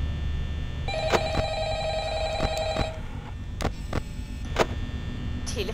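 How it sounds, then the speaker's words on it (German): In the Five Nights at Freddy's night-shift office, a telephone rings for about two seconds in a bright, buzzing tone over steady hum, followed by a few sharp clicks. "Telefon!"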